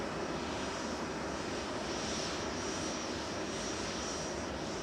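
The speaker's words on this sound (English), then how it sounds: "This is a 787-9 A9C-FH" Boeing 787-9 jet engines at Manchester Airport, a loud steady roar filling the air without a break, heard from nearby on the airfield.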